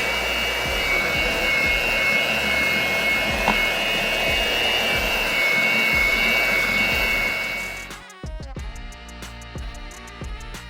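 Electric mixer beating the dry and wet ingredients of a cranberry orange cake batter, a loud steady whirring drone that cuts off abruptly near the end, leaving quieter kitchen sounds.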